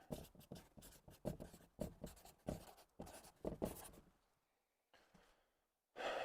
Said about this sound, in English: I'll start writing smaller because we're running out of room here.